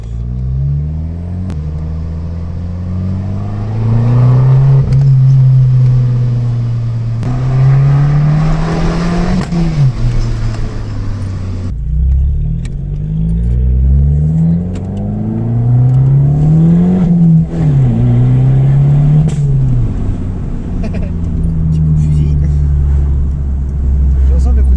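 A car about five years old with its stock original exhaust revs repeatedly, loud close rising-and-falling engine sweeps in several bursts, with talk over parts of it.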